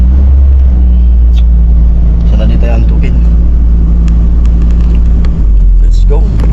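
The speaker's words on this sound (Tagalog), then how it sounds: "Painitin ko muna yung makina." A car engine idles at night while warming up before a trip, a low steady hum close by under people chatting in the cabin.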